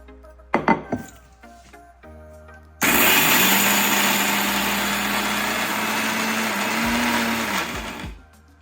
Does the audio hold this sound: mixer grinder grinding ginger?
yes